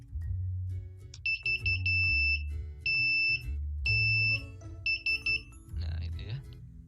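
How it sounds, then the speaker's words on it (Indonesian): An electronic buzzer wired straight from positive to ground with no resistor gives repeated shrill beeps in short on-off bursts over a steady low hum, close and clear. "Untuk yang ground dengan yang positifnya langsung ke buzzer tanpa resistor."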